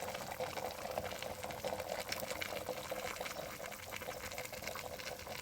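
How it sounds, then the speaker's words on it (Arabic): Oil poured from a small glass into a pot of simmering meat for a Moroccan prune and meat dish, a steady close liquid pour with sizzle and bubbling throughout. "دابا خواتاتي غنضيف هاد الكويس تاع الزيت"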